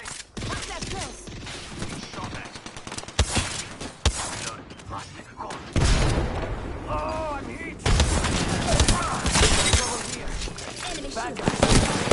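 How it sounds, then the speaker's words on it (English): A video game shootout brings repeated loud gunshots and heavy bursts of fire, with thumps and crashes, mixed with shouted in-game voice lines and speech throughout. "Opening fire! Taking fire!"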